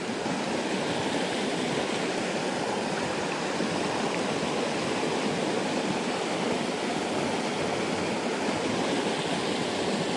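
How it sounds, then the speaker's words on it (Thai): A jungle stream in a headwater forest flows steadily, a dense, constant rushing and gurgling of water close by, even and unbroken for the whole stretch with no voices. "ชอบน้ำไหลๆจริงครับ"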